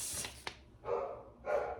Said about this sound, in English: He's playing with Jackie and she's barking.